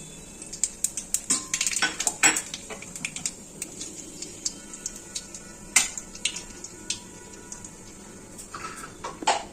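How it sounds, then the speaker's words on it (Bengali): Nigella seeds tipped into hot oil with fried bay leaves and chillies, scattered clinks of a spoon against the pan over a faint continuous sizzle, close and moderately loud. "এখন দিয়ে দিচ্ছি কালো জিরে।"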